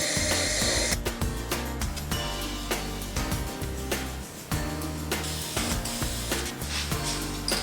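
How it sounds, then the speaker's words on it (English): A drill bores 2 1/4 inches into a wooden dowel, a steady grinding whir with scraping, rubbing texture and brief sharp transients, continuous and fairly close throughout, with no talking. "I'm going to drill in 2 1/4 inches into the wooden dowel."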